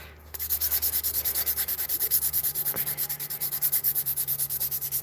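A file scrapes rhythmically across an acrylic nail, smoothing the surface in quick, even back-and-forth strokes, close and continuous with no talking.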